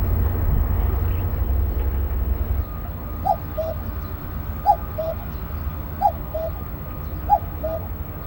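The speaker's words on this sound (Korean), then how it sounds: "여름 철새 뻐꾸기도 마을을 찾았다." A common cuckoo in a Korean village in summer calls its two-note song four times at an even pace, clear against a low rumbling background.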